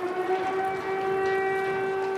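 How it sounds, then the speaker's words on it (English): An air raid siren sounds over Uman, Ukraine, holding a steady, sustained tonal wail with strong harmonics against a faint background hum. "Air raid sirens in Uman."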